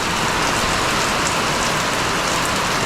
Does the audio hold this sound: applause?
no